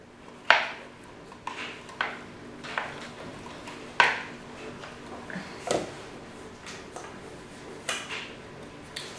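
A cake scraper works softened, microwave-warmed ganache around a cake in a kitchen, making a string of light scraping and tapping sounds at irregular intervals, close and fairly quiet.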